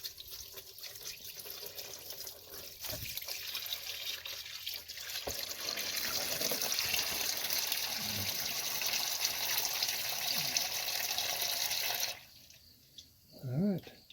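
Automatic transmission fluid drains from a 2008 Honda Odyssey in a steady, close pouring gush that runs for about twelve seconds and then stops, followed by a short voice.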